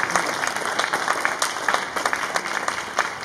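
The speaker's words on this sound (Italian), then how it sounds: "Applauso, applauso, applauso." Audience applause at an outdoor emerging-music festival at Villa Clementi in Malo, a steady wash of hand claps with scattered sharper claps standing out, moderately loud and continuous.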